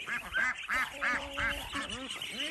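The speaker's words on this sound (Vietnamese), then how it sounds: "Vịt. Đây là vịt." Farmyard ducks quack in short repeated bursts close by, with a steady rhythm of calls and some background voices mixed in.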